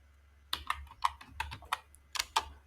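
Keys on a computer keyboard are tapped in short irregular bursts, crisp close clicks separated by brief pauses, over a low steady hum, with no speech.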